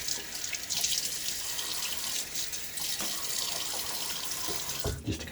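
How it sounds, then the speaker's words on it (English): A bathroom tap runs steadily into a sink with a close, continuous splashing rush of cold water being scooped onto a face before a wet shave. A brief louder splash comes near the end. "I'm gonna throw some water on my face."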